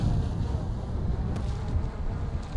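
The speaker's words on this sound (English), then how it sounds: "It is very windy today." Strong gusting wind buffets the microphone outdoors, a dense, steady low roar that fills the whole stretch with no other clear sound.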